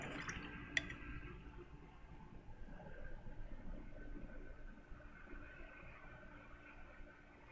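A paintbrush is rinsed in a container of water during acrylic painting, producing faint soft swishing and dripping with a brief clink of the brush against the container near the start.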